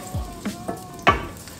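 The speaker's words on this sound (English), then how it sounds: "we're just gonna throw in our garlic and carrots to it. And just let it simmer there for quite a while" Garlic and carrots fry in a pan, giving a soft bed of sizzle broken by a few short spattering pops and stirring scrapes, close and moderately loud with no talk.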